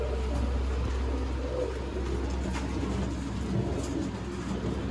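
Golden pigeons, a male among a pair kept for sale, cooing softly under a steady low rumble of background noise, with faint scattered bird calls throughout.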